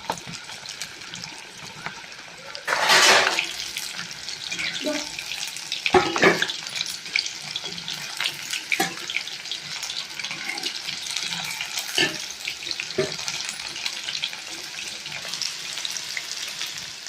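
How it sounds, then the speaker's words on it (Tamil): Coated tuna fish fingers deep-fry in hot oil with a continuous bubbling sizzle, broken by a loud burst of crackling early on and occasional sharp clanks of a utensil nearby, with no talking. "நம்ம இப்போ ஆயில் சூடு பண்ணி பொரிச்சிடலாம்."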